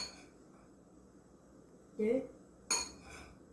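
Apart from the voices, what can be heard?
tablespoons of flour being spooned into a bowl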